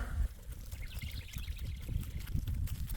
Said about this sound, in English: It's a lot of water, isn't there, Jack?